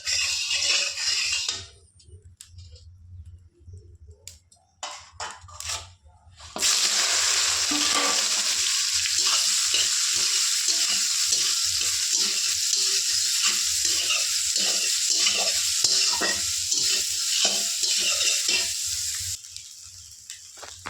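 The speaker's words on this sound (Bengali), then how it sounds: "তো সয়াবিনটা আমার ভাজা হয়ে গেছে, আমি এখন সয়াবিনটা নামিয়ে দেবো।" Soya chunks sizzle in hot oil in a wok while a spatula stirs them with steady scraping clicks, quiet at first and then a loud, continuous frying hiss for the rest of the time.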